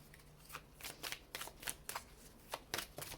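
Oracle cards are shuffled by hand in a quiet room, making a string of quick, close riffling and slapping bursts in an uneven rhythm, with no talk.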